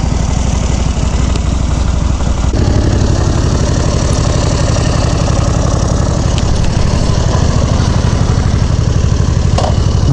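Aprilia Caponord motorcycle engine idling and lugging steadily while backing down a driveway, a loud, close, continuous throbbing rumble with no talk over it.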